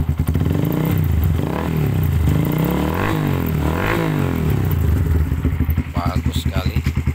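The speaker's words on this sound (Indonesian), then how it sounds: "Langsung saja dia langsung hidup, satu kali engkol, dan dengarkan saja suaranya." An old carbureted single-piston motorcycle engine with twin spark plugs idles close by in a steady, loud, rounded throb, ending in lumpier pulses, with some mechanical clatter.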